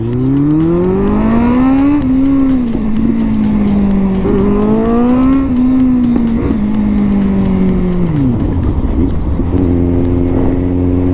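A car races past during a freeride outing, its engine note loud and close, rising and falling in pitch as it revs and passes before dropping to a lower tone, with voices talking over it.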